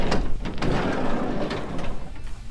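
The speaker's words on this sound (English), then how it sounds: "Slider door works, sort of." Sliding side door of a 1970s Chevy shorty van rattling and rumbling along its track, a heavy metallic scrape with clunks, loud and close, running continuously.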